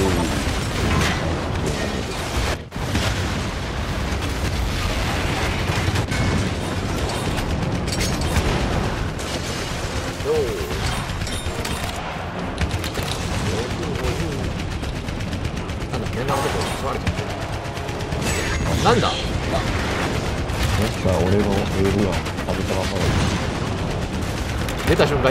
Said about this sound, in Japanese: 爆発したからびっくりしたぞ